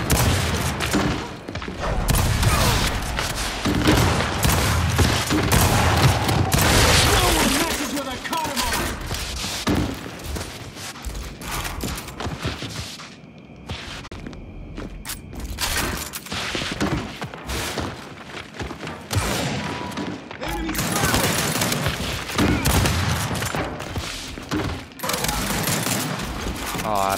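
Rapid pistol fire from the video game HnH, with dense bursts of sharp shots and thumps that come back again and again over about half a minute, mixed with a voice talking.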